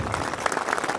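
Audience applause at a statue unveiling for a legendary soccer goalkeeper, a dense steady patter of many hands clapping throughout the short moment with no talk over it.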